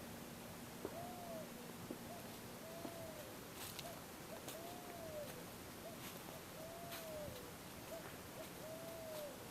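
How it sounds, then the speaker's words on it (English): Doves coo in a young tropical garden of fruit trees and vines, soft repeated rising-falling calls spaced a second or two apart, faint and distant over steady background hiss. "doves cooing in the background"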